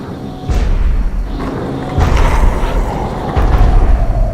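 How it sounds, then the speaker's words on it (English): Giant robot in XCOM: Enemy Unknown stomping with heavy metallic footsteps, three deep booming thuds spaced about a second and a half apart over a low rumbling ambience. "those sound footsteps can only come from giant robots"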